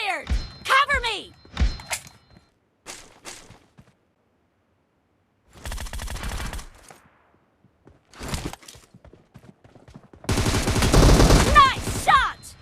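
Bursts of automatic rifle fire in the video game PUBG, a 1v1 AR match, come in short volleys separated by silences, with game announcer voice lines heard early on.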